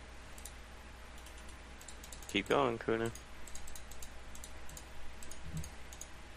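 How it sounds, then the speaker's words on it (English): A computer keyboard clatters in a quick burst of keystrokes lasting under a second, picked up over a Skype call amid faint background noise, while a voice speaks briefly. "He's typing."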